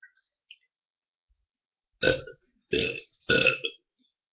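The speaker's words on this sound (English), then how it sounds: "that burp kind of tasted like orange soda" Three loud, guttural burps follow one another about a second apart, close to the mic, after a sip of pumpkin patch soda, with only faint quiet sounds before them.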